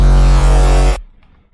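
A stretched-out hardstyle kick sample booms loud and distorted, holding a deep buzzing tone for about a second before cutting off abruptly into a faint tail.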